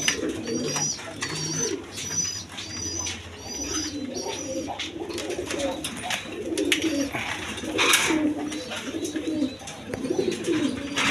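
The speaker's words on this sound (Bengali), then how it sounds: "এইখানে এক পেয়ার গররা কবুতর আছে" A pair of Gorra pigeons coo repeatedly in a loft, low throaty coos mixed with other birds chirping. The sound comes from close by and runs steadily throughout.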